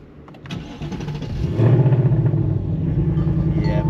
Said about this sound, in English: Let's get this started up